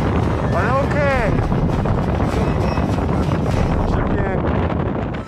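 Strong wind at Windy Corner on Denali roars continuously into the microphone, loud and close, buffeting without pause while faint voices or sounds briefly rise through the rush.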